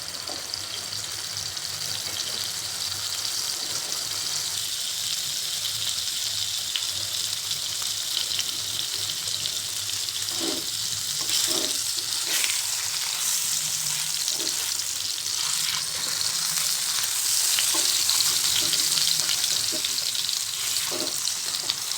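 Whole paneer frying in plenty of oil in a pan for bhurji, a steady close sizzle and crackle running throughout, with a few sharp clinks of utensils and stirring near the middle.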